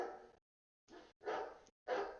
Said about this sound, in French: Il y a des chiens du voisin qui jappent